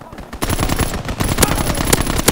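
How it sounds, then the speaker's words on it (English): A strafing run in a video game: loud bursts of rapid machine-gun fire rattle in quick succession, with a near, dense stream of shots that starts after a brief lull. "Strafing run inbound."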